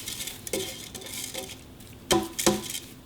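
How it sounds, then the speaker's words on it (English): Washed basmati rice tips into a pressure cooker pot, giving a few short grainy rattles and patters against the metal, with two louder bursts late on over a low kitchen background. "Then I'm gonna put in my washed basmati rice"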